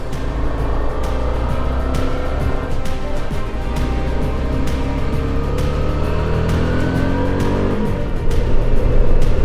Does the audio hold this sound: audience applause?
no